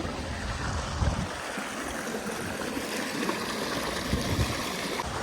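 Irrigation water rushes into a paddy field in a steady, close, broadband flow like a stream, with occasional low splashy surges and no talking.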